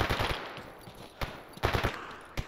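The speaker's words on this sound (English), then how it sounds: "is there gunshots shooting at me now?" Rapid bursts of gunfire in the video game S.T.A.L.K.E.R. crackle in quick succession, with a few louder sharp shots standing out, no voices present.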